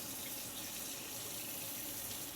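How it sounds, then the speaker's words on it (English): Kitchen tap running cold water over boiled eggs to cool them, giving a steady, even hiss and splash that holds at the same level throughout with no pauses and no voices. "And then just run them under cold water."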